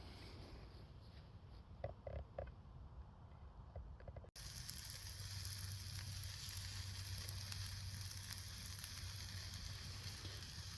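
Bratwurst and onions sizzling in a pan at a woodland wild camp, a faint crackle at first and then a steady loud hiss once the food hits the pan, continuous and close.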